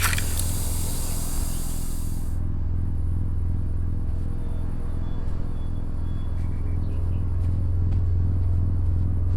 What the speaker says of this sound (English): The main way to do this is by listening to a rumble.